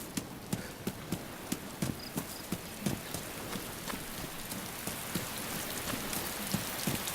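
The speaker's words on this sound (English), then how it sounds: "look at this rain" Heavy rain falls steadily in the survival game DayZ, a dense continuous hiss with repeated sharp knocking impacts scattered throughout, fairly loud and with no voices.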